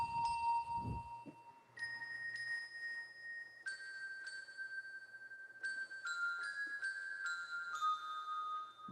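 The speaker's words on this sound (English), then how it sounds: "Then you got the hand bells." Hand bell voice played on an electronic keyboard: a series of clear, ringing bell tones struck one after another, each sustaining and overlapping the next, fairly loud with a short low thump at the start.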